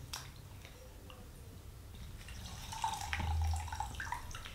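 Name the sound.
water wrung out of a wet towel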